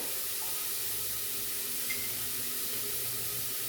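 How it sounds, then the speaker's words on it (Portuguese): Water pours steadily into a cooking pan as a vegan pot-roast dish is prepared, making a soft, continuous hissing splash at moderate volume with no talking. "Vou colocar um tanto assim de água."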